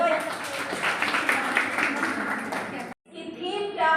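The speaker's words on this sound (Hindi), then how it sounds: "ताली बजाओ भाई।" Group of people clapping hands in sustained applause at a one-day camp event for World AIDS Day, dense and steady, briefly cut off near the end before resuming.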